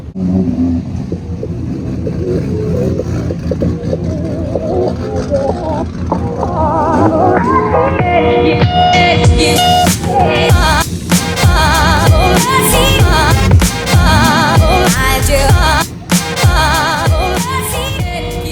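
A drift car's engine idles, then revs and climbs steadily in pitch to loud, sustained high revs with brief lifts, heard up close from inside the car with no talking.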